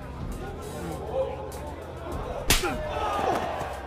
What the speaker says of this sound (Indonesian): Suara tamparan menggema keras